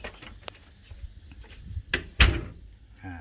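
A door fitted with foam sealing tape swings shut with a muffled thud, preceded by a lighter knock, in an otherwise quiet room.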